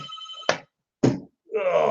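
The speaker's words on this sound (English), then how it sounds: "oh God, phone's ringing" A telephone rings with a bright electronic trill that stops short, followed by two dull knocks and then a murmuring voice as the ringing resumes.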